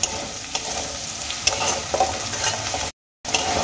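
Onion fried with ginger and garlic in a pan, a steady close sizzle with stirring scrapes throughout and a short gap near the end; no voices.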